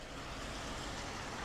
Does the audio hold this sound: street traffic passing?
yes